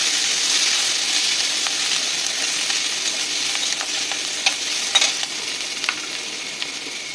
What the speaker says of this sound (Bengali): দেখো আমার 5 ফোড়নটা ভাজা হয়ে গেছে, আমি পেঁয়াজ কুচিটা দিয়ে দিলাম।